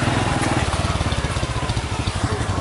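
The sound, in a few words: motorcycle ride on muddy road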